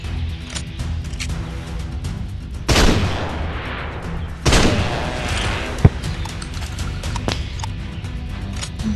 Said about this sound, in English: you use shotgun instead.